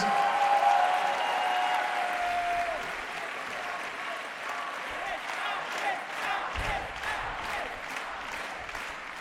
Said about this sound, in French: Applaudissez très fortement, s'il vous plaît, pendant qu'ils rejoignent leur place.